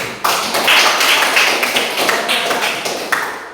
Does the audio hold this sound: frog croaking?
no